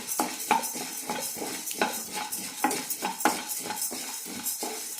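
Urad dal, cumin seeds and black sesame roasting dry in a pan for drumstick-leaf idli podi, stirred with a utensil in steady scraping strokes with light crackling and occasional sharp taps, close and moderately loud.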